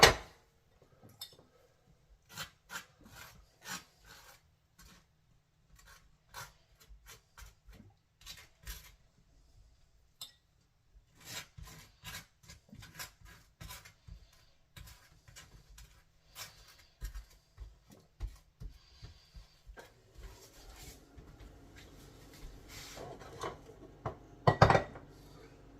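Butter is scraped across freshly made toast from a 1927 antique toaster, a long run of dry, scratchy knife strokes and light clicks close by, growing busier and louder toward the end, with no talking.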